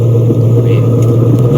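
A Ford Mustang Shelby GT350 engine and exhaust idles loud and close in a steady deep rumble, with a slight swell partway through and no talk over it.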